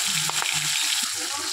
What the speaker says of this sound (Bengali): তেলটা ভালোভাবে গরম হয়ে গেছে, এবার দিয়ে দেবো এর মধ্যে মাছ, নুন হলুদ দিয়ে মাখানো মাছ।